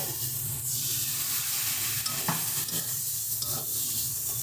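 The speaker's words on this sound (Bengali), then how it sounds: "চলো এবারে আমরা দিয়ে দিচ্ছি সামান্য একটু জল" Spice paste sizzles steadily in a pan for a rohu fish head curry with tomato and brinjal, with stirring scrapes and a brief hissing surge as a little water goes in; close, continuous, no talk.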